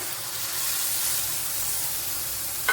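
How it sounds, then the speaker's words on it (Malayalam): Ground paste poured into sautéed okra in a hot pan, giving a steady, close sizzling hiss that holds evenly throughout and ends with a small utensil clink. "അതിലേക്ക് ഇനി നമ്മൾ അരച്ചു വെച്ചിരിക്കുന്ന അരപ്പ് ഒഴിച്ചു കൊടുക്കാം"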